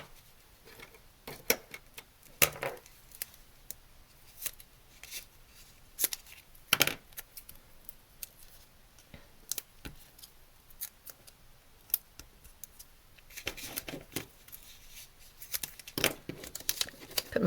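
Dimensional tape strips being handled and snipped with scissors while making a washi and stencil card, giving a series of short, sharp cuts and crinkles with quiet pauses between them, close up and fairly faint.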